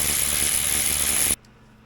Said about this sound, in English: we're going to torque them all down with the torque wrench